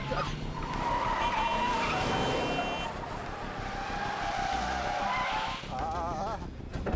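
Tires screech in a long skid over a roaring engine, loud and close, with squealing tones wavering for several seconds.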